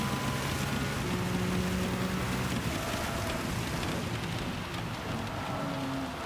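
Steady, dense rain hisses throughout a race in Gran Turismo 7, a continuous wash of drops with faint low rumbles and no talk.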